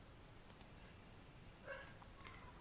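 A few mouse clicks while changing laptop power plan settings, two sharp close clicks early on, then a couple of fainter clicks and light taps afterward, quiet and alone with no talk.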